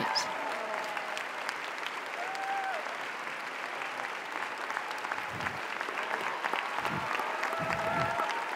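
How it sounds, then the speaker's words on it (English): Steady, sustained applause from a large audience on the Cannes 2019 red carpet for Parasite, continuous clapping throughout with a few faint calls rising above it. "Let's listen to the applause."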